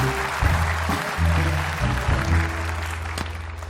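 Applause from a talk show studio audience, a steady mass of clapping running beneath loud music with a low, pulsing beat.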